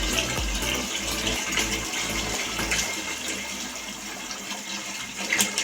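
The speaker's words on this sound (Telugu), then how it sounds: "ఇంకొన్ని వాటర్ యాడ్ చేసుకుందాం." More water poured into a pot of rice for chicken dum biryani: a loud, continuous gushing splash of filling liquid that runs steadily from start to finish, up close.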